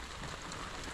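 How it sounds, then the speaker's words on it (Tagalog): Rain falls in a steady, dense hiss outdoors, continuous and moderately loud for the whole short stretch, with no voices. "Inabot tayo ng ulan."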